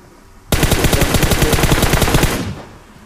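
Automatic gunfire in PUBG Mobile, a single sustained burst of rapid, evenly spaced shots lasting about two seconds, loud and close, then cutting off abruptly.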